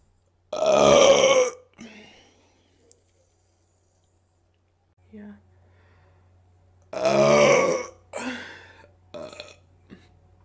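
Two long, loud belches from a woman, each lasting about a second and spaced several seconds apart, with a few shorter smaller burps and mouth sounds trailing after each.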